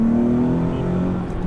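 A 2009 Nissan 370Z engine hums steadily nearby with a sustained droning pitch, revving slightly before easing off near the end.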